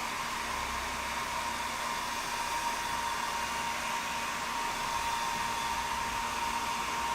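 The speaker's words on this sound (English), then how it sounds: "Enjoy the subtle sounds of the hairdryer." A hair dryer blows steadily and loudly for the whole stretch, a constant whooshing roar with a faint high whine, no voices.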